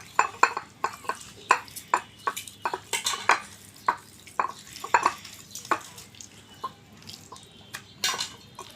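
Chicken pieces tossed with spices in a bowl give a steady series of clinking, wet slaps and scrapes, close and fairly quiet, coming in a regular rhythm.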